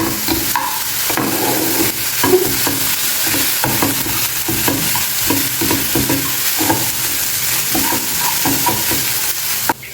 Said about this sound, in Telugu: ఇప్పుడు ఇదే ప్యాన్లోకి పచ్చికోవా వేసుకోండి వేసుకొని వేయించేసుకోండి